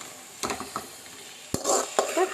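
Spoon scraping and stirring meat masala through a frying pan mixture, a few separate scrapes followed by a denser sizzling stir, close and fairly loud with no talk.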